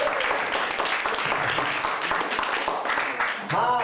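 Audience applause at a German carnival lecture, a dense, loud burst of clapping filling the hall, with a voice speaking over it and a brief dip near the end before the clapping swells again.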